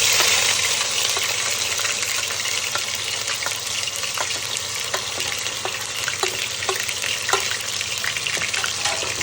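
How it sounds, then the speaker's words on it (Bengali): Water-soaked onion paste hits hot oil in a pan for a Gandharaj chicken curry, giving a steady, close frying sizzle scattered with sharp crackling pops, with no talking. "এবার যে পেঁয়াজটা আমি এখানে জল ছাড়িয়ে রেখেছিলাম সেই পেঁয়াজটা দিয়ে দেবো"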